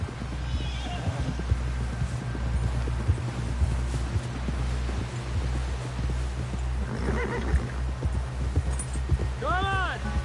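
A galloping horse in Red Dead Redemption 2 pounds out steady, close clip-clop hoofbeats, with a loud whinny near the end; voices speak over the ride.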